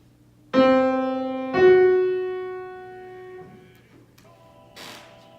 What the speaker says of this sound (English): A tritone sounds something like this.